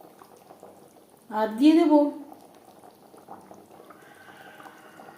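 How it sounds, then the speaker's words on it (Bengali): Aar fish curry gravy (jhol) simmers in a pot with a soft, steady low bubbling, briefly covered by a short spoken phrase partway through. "3-4 মিনিট গ্রেভি বেশ ভালো করে ফুটিয়ে নেব।"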